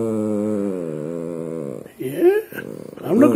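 A Yorkshire terrier growls and makes grumbling, talk-like vocal noises up close, a sustained harmonic whine-growl followed by shorter rising yips and grumbles, with no human speech.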